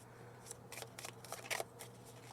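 A deck of cards being shuffled during a pick-a-card divination reading, heard as several quick, soft riffling bursts at close range with no one speaking.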